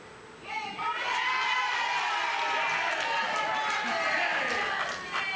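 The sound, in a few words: crowd shouting at Pilate's judgment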